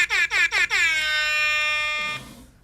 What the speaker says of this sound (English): that's a comedy noise. It's a air horn